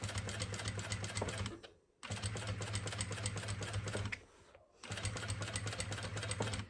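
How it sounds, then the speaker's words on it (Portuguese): A sewing machine stitches fabric on the reverse side in three steady runs of rapid, rattling needle strokes, each stopping briefly before starting again. "Regulem a máquina de vocês, porque nós estamos costurando no avesso"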